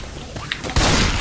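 Gunfire in Left 4 Dead 2, a sudden loud burst of rapid shots that cuts in partway through after a quieter stretch.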